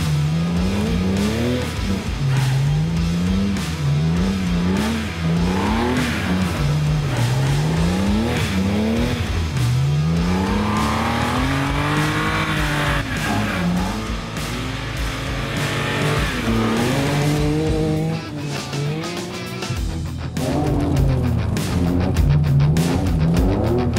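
BMW M3 E46 with a limited-slip differential sliding across grass on a buggy track, its engine rising and falling in repeated loud revving surges with tire noise, close and continuous throughout.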